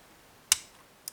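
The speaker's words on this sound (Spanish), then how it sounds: "sexta un buen clic" A pin clicks sharply while a Mottura lock is picked, a single crisp tick followed by a fainter second click about half a second later, close and isolated.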